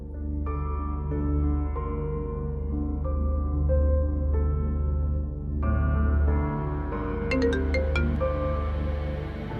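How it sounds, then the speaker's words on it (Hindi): Phone ringing while someone places a call, a repeating melodic ringtone playing in steady loops with a low hum beneath, clear and close, growing brighter with added chiming near the end. "तुम निगी आंटी को फोन करो,"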